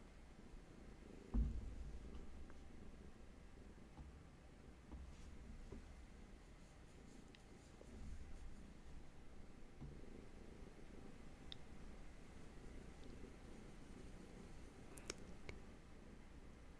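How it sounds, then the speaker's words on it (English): A soft, continuous low purring rumble from a cat, steady and close, with a few faint clicks and rustles over it. "You might hear Hattie's purrs"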